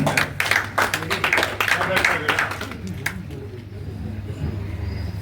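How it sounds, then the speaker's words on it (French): An audience at a film premiere claps in a quick run of close handclaps for about three seconds, then fades to a murmuring room with a low hum underneath. "Applaudissez quand même pour moi"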